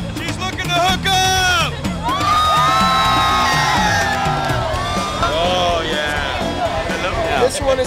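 A wild spring break crowd in Key West screams, whoops and cheers loudly and continuously, with excited shrieks rising over a dense babble of voices close by.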